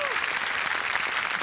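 Loud, dense applause from a large studio audience at a Marathi comedy show, a steady wash of clapping that fills the whole moment without a break.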